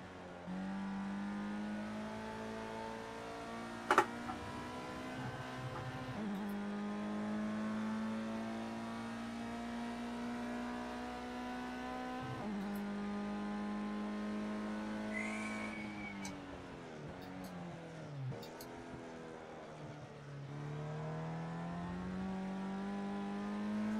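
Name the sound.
race car engine and tyres in the Project Cars 2 video game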